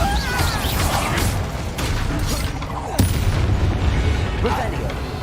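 Bombarda blasting spell going off in the video game Hogwarts Legacy during combat: a dense, loud burst of booming, crashing explosion noise with a sharp hit near the middle, set in continuous battle clamor.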